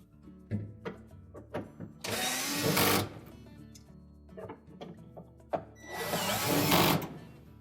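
A power drill drives screws into a refrigerator evaporator fan motor mounting bracket, two loud whirring bursts of about a second each, separated by clicks and handling knocks close by.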